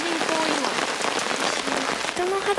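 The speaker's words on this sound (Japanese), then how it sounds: "突然の大雨降ってきた。" Sudden heavy rain pours down on a remote mountain campsite in the forest, a dense, steady hiss of drops drumming on nearby surfaces that stays loud and close throughout.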